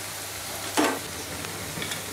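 Lentil fritters (daler bora) made mostly from chana dal with green chillies sizzle in hot oil, a steady close frying hiss with a brief louder burst of bubbling and stirring partway through, no voices.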